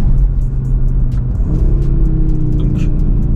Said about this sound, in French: vous avez la sonorité d'origine du 5 cylindres, hein